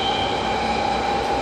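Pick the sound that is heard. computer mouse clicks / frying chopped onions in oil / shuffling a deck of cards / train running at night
train running at night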